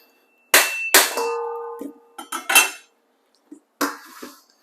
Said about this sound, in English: So I'm breaking up my coconut.